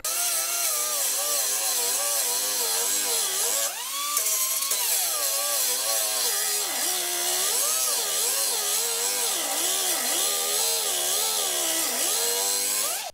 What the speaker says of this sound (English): I'm just going to cut the head of the bolt off with the cutoff tool like we had earlier